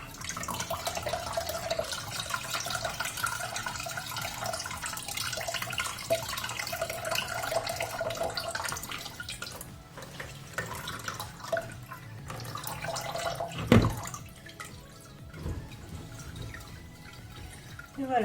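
Water from soaked homemade laundry detergent slowly drips through a filter into a bucket, soft intermittent drips over a quiet background hiss, with a louder splash near the end.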